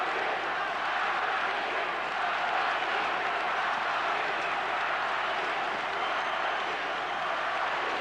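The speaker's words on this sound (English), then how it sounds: "And now listen to the crowd." A packed arena at a 1991 basketball game between Kingston and Maccabi Tel Aviv roars in a continuous, dense wash of cheering and noise that holds steady for about eight seconds.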